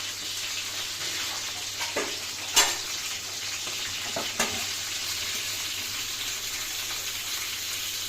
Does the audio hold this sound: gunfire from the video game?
no